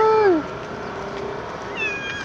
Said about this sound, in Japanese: ほらでっかい猫がいっぱいいるんだから